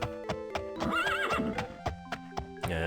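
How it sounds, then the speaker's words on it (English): A horse in The Elder Scrolls II: Daggerfall gives a loud, wavering whinny, framed by sharp clip-clop hoofbeats and short snorting bursts, all up close with no talking. "we got a noisy horse being noisy"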